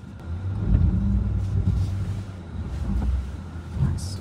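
Premium 4x4 SUV crawling off-road over obstacles, a low engine rumble swelling and easing as it accelerates, close and steady with faint knocks from the terrain.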